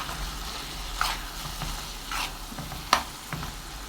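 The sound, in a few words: stirring tomato paste and spices frying in a pan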